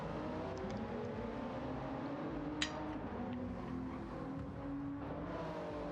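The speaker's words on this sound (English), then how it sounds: "there is some serious short shifting going on with that GTR" Nissan GT-R race car engine in a racing video game at Monza, droning steadily with short-shifted revving and a brief sharp transient midway, loud and continuous without talk.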